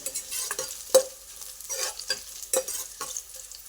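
Spices and kasuri methi fry in oil for Udupi-style sambar, a steady close sizzle broken by several sharp scraping stirs of a spoon in the pan, with no voices.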